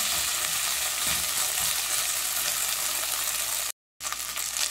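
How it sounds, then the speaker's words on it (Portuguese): Beef frying in a pan for an eggplant and meat dish, a dense, loud, steady sizzle heard close, with one short cut to silence near the end before the frying resumes. "Agora sim, ó, nossa carne já fritou."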